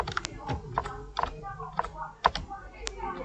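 Keystrokes on a computer keyboard in Microsoft Word, pressing Ctrl+Z repeatedly to undo: a handful of sharp, close clicks spaced irregularly across a few seconds, with a faint voice under them.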